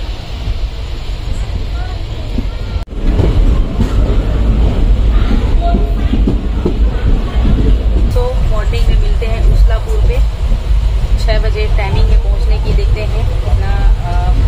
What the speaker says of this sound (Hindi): ट्रेन चल पड़ी है दोस्तों